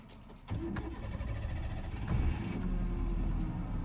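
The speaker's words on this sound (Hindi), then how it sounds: "चलो अभी इंजन ऑन करो" A car engine starting during a driving lesson: a brief crank gives way to a steady, rising idle rumble that holds loud and close to the end, with no voices.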